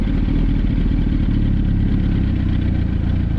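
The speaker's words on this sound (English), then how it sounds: "this last time I'm gonna let the bike go and just let go of the clutch." A sportbike's engine idles with a continuous, close, low rumble and light mechanical clatter as the clutch is eased out and the bike rolls off slowly without throttle.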